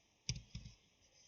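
A few quiet clicks from a computer keyboard as a command is typed in AutoCAD Electrical, two short taps close together and then silence, with no voices.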